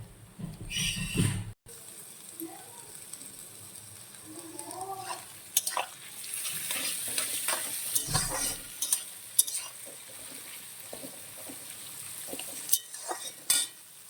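Long, thinly sliced green beans sizzle and fry in a pan while being stirred, giving steady close frying hiss with scraping stir strokes and a few sharper clinks, with no talk.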